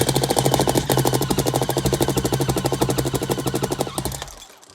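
An EMG Autobot electric speedloader fills an airsoft magazine with a steady, fast mechanical rattle and motor whir, loud and close for about four seconds before winding down and stopping.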